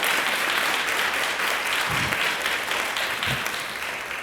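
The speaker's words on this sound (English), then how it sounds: "give him another round of applause for all the energy" Sustained applause from an audience at a 2022 church graduation ceremony, dense clapping held at an even level throughout the clip with no talk over it.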